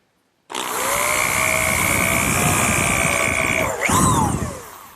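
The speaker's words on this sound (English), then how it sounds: "what I'm going to do is just drill a hole down into the side frame" Power drill boring a hole down into the wooden side frame of a hearthside settle, a steady high whine under load that dips and rises briefly as the bit cuts through, then winds down.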